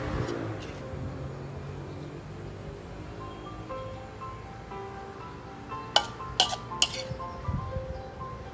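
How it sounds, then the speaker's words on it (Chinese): Thai spicy pork salad (larb) scooped onto a plate, with a quiet background hum broken near the end by a few sharp clinks of a utensil striking the dish, then soft scraping. "接下 着来直接把凉拌猪肉打到盘子里"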